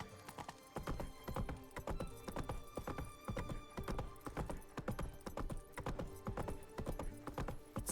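Hooves gallop in The Witcher 3: Wild Hunt, a fast, steady clip-clop close by with dense rhythmic thuds running throughout and no talk over it.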